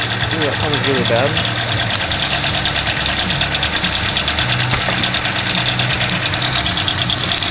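Hyundai Tiburon 1.8 liter engine with exhaust headers idling close up, a loud steady drone with a rapid ticking and knocking rhythm throughout, with a person talking over it.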